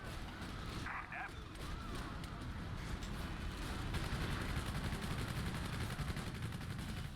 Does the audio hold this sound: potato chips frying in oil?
no